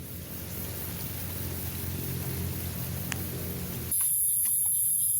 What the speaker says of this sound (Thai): ฝนลงมาแล้ว